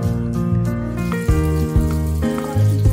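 Water, 1.5 litres, pours steadily into a pot of beef and bone pieces with whole spices like cardamom and black pepper for yakhni broth, a loud close filling sound with shifting tone and no talking.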